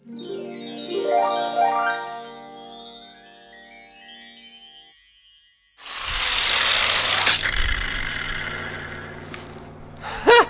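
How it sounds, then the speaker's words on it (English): Angle grinder cutting into the casing of an electrical transformer, a harsh loud grinding rasp with a rising whine that fills the second half, after a stretch of another high tonal sound. "maybe an angle grinder could just cut that"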